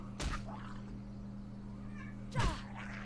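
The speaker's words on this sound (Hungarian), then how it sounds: "Macska erre azt mondja..." A cat meows twice, each call short and clear against a quiet background with a steady low electrical hum, the second meow slightly louder and nearby.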